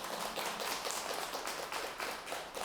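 An audience applauds at a Buddhist dharma talk in a temple hall, a faint, steady patter of many hands clapping at once with no voices over it.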